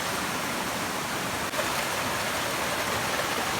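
A constant rushing wash of flowing water from a forest stream by a waterfall in the Konkan region fills the scene evenly without pauses or voices.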